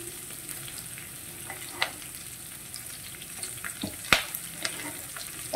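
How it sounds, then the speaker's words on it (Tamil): Chopped tomatoes fry in a pan of mixed vegetable gravy, giving a steady low sizzle with scattered sharper crackles and a few stirring clinks, close and fairly quiet, with no talk. "தக்காளியும் இந்த மாதிரி கட் பண்ணி உள்ள சேர்த்துக்கிறேன் நான்"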